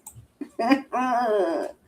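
A man playfully imitates a dog's bark with his voice, giving a short grunt and then a drawn-out, strained howling bark, close and alone.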